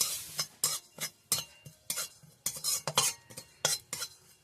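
Radhuni spice and fennel seeds dry-roasting in a pan for shukto, stirred with a metal spatula in a rhythmic series of scraping clinks over a faint crackle, quiet and close.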